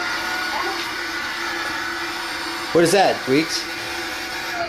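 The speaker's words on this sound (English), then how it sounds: "Vacuum." A household vacuum cleaner hums steadily and evenly in the background throughout, while a young child and an adult briefly speak over it near the end.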